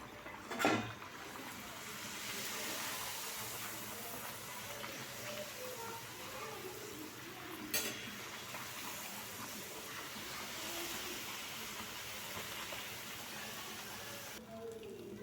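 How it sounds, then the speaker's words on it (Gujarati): Masala puris fry in hot oil with a steady, soft, broadband sizzle, a couple of brief louder pops breaking through, while a person speaks over it. "તેલ ગરમ થઈ ગયું છે પૂરી એડ કરી દઈશું તેલમાં"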